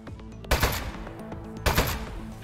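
Two short bursts of rapid gunfire from a desk-mounted gun in the video game Aperture Desk Job, loud and close, each a clattering machine-gun rattle with a steady hum between them.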